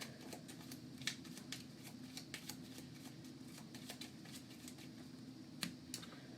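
Marvel United board game cards being shuffled, faint soft riffling and light card snaps scattered over a quiet, steady room hum.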